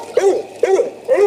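A dog in a yard gives three evenly spaced, rounded barks at moderate volume, each followed by a short pause, with no talking.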